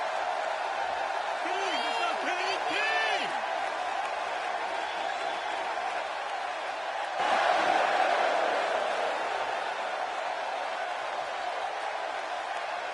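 Arena crowd noise from WWE 2K16, a steady wash of cheering from a capacity crowd with a swell partway through, running beneath a commentator's voice.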